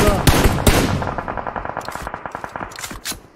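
Gunfire in an online battle royale match, with a loud rapid burst of automatic fire followed by a steady string of shots that echo, and brief voices over the start.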